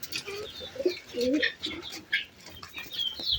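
Pigeons coo in soft, repeated low calls, close by, with a few brief wing flaps and small chirps mixed in over a quiet background.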